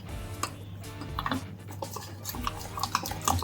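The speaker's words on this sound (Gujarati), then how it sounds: "ને હવે આને જો હલાવવાનું છે. રીતે આમ એકરસ કરવાનું છે હલાવીને." A spoon stirring cupcake batter of flour and milk in a bowl, with light repeated clinks and scraping taps in an uneven rhythm, close and fairly quiet.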